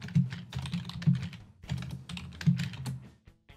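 Typing a folder name on a computer keyboard, with close, quick bursts of key clicks in short uneven runs and a brief pause midway, alone without speech.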